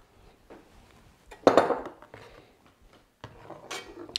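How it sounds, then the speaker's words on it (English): A spoon clinks against a pot while parsley is stirred into a cream soup, giving a few scraping knocks and one louder clatter, close and alone with no talking. "And then stir in the parsley."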